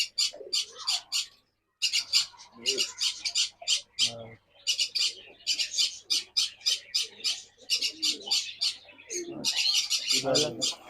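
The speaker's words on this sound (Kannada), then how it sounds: "African love birds violet Musk sir." African lovebirds, violet masked, call from a pigeon loft, sending out rapid, shrill chirps and squawks in dense repeated bursts close by, with only a brief pause near the start.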